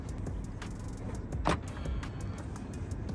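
A BMW E93 convertible, a 335i tuned to 600 bhp, whirs as its electric roof mechanism runs, a steady motor hum with a few sharp clicks and a louder mechanical clunk partway through, close up and with no talk.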